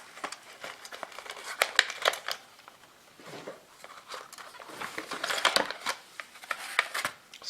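Packaging for i7S Bluetooth wireless earbuds being opened by hand, a close run of crinkling, tearing and rustling of cardboard and plastic that builds in intensity, with no talking.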